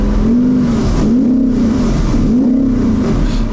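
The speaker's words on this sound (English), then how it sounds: "So the engine works." A BMW M2 engine is revved in neutral, loud and close, in three rising and falling rev swells with a deep exhaust note and no talk over it.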